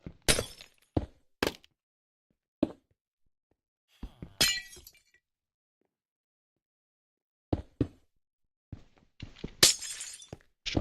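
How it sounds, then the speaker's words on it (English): Glass blocks breaking in Minecraft, a series of sharp shattering crashes and clinks spread unevenly over the stretch with long silent gaps, loud and close, bunching up toward the end. "I shouldn't be breaking the glass."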